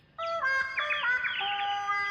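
Cartoon birds chirp in a bright, high-pitched run of tonal tweets that starts abruptly and continues steadily for about two seconds, with no talking.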